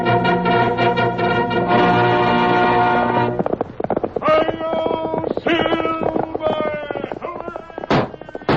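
Old-time Western radio sound effect of horse hooves galloping, with a horse neighing, loud and busy under a swelling orchestral score.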